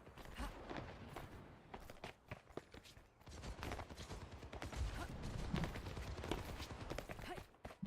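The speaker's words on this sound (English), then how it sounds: "Where are you? I hear your footsteps." Footsteps in the Tekken 8 fighting game, a faint, quick run of clattering, clip-clop-like steps and scuffles that rise and fall irregularly over several seconds, with no talk.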